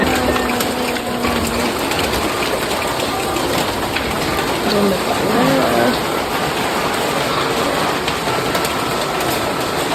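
Steady heavy rain falls outdoors in a continuous loud hiss, with a faint bird call and a low mechanical hum underneath.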